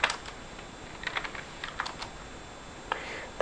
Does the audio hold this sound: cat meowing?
no